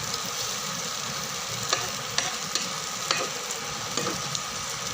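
A flipped vellerikai (cucumber) adai fries in oil on a hot pan with a steady, loud sizzle and a few soft taps of a spatula, no talking.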